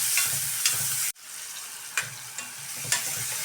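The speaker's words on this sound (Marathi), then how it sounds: "कांदा छान भाजून घ्यायचा." Finely chopped onion frying in a pan, a steady soft sizzle with a few sharp scraping stirs and a brief cut in the sound, no voices.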